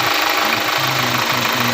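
Hyundai Grand Starex engine running after repair, a loud, close, continuous idle with a steady low rumble and a faint knocking pulse, no voices.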